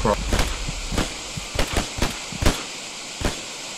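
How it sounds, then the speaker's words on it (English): Explosions boom in the video game Hell Let Loose, a string of sharp, loud bursts spaced unevenly over a few seconds, with voices in the background. "No, that's an explosion."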